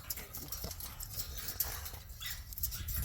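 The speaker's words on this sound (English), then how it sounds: "I'm trying to let these dogs out" Dogs being let out, with claws pattering and scuffling on the floor, faint whimpers, and a low, busy background throughout.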